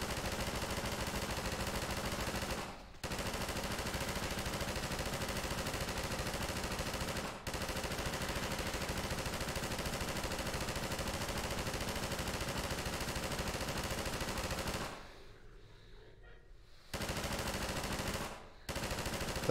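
Machine guns rattle in near-continuous loud bursts in Half-Life, with a few brief gaps and one longer pause before the firing resumes; no one speaks.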